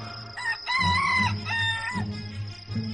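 A jungle fowl crows loudly nearby, giving a couple of drawn-out, wavering calls close together, over a faint low background hum, with no talking.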